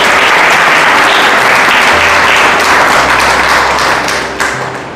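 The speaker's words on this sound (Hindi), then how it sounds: "एक बार ताली बजाकर प्रभु की महिमा करें।" A church congregation bursts into loud, sustained applause, dense clapping filling the room for several seconds before tapering slightly at the end.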